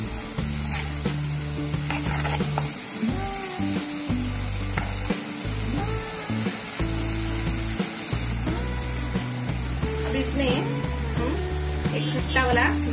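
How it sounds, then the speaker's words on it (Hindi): Spicy garlic chutney simmers in a pan and comes up to a boil, a continuous close sizzle and bubbling heard under steady talk and background music. "इसको एक उबाल आने देंगे।"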